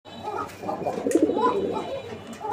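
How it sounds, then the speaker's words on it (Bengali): A male desi pigeon, Raj Golla breed, coos in a low, rolling, repeated call throughout, close by and fairly steady in loudness. "তো দর্শক, আপনারা নটটার ডাকটা এতক্ষণ দেখলেন।"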